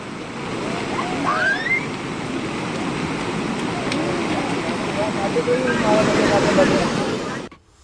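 Strong flood water rushing hard over a submerged culvert on a road, a dense, constant roar that stays loud and close before cutting off abruptly at the end.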